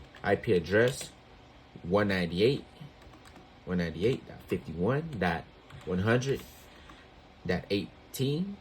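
Computer keyboard typing while entering network settings, quick light key clicks heard beneath someone talking throughout.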